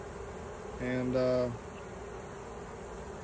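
Honey bees loosed from a nuc box onto the ground beside a hive make a brief, louder buzzing pass near the microphone over steady outdoor background, with a single spoken word.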